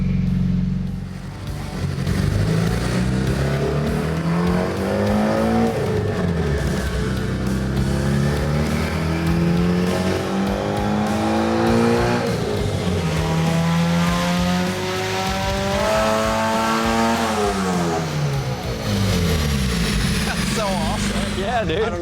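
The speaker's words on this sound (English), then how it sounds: "car's warmed up, and get ready to do the first pull and see where we're at" A car on a dyno during a pull after warming up, the engine climbing through the revs in repeated rising sweeps, loud and close, with people talking over it.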